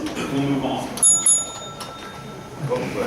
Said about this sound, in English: She also has a little bell that she will ring to signify you that your 2 minutes is up